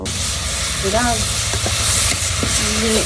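A pan of vegetables frying, a continuous close hiss of sizzling with a few light clinks, and a faint voice and tonal squeaks in the background.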